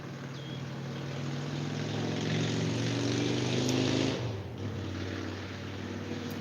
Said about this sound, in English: Loud ass motorcycle.